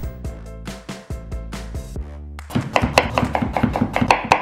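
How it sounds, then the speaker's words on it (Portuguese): A knife chops vegetables such as carrots on a cutting board while Japanese food is prepared, with loud, close, rapid knocks. Slower cuts come first, then a quick rhythmic run. "Vamos picar os legumes então. Corta assim de ladinho pra ficar bonitinho"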